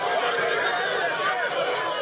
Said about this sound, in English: to a waiting, cheering crowd